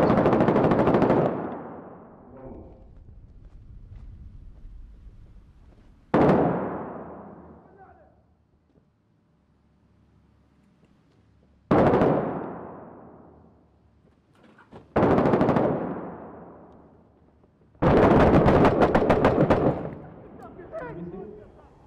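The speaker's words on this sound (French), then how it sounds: "Est-ce qu'on se fait tirer par la fenêtre aussi?" Machine guns roar in the combat game Six Days in Fallujah, with five heavy, booming bursts separated by pauses, each ringing out and decaying. Faint voices and scattered noises fill the gaps between the loud volleys.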